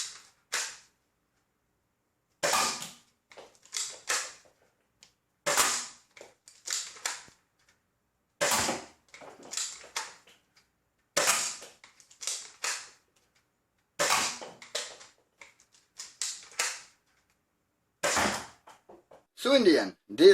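Dart Zone Max Outlaw foam dart blaster, a roughly 120 FPS model, fires again and again: sharp close pops come in irregular bursts of several shots with brief pauses between, some with a trailing mechanical clack.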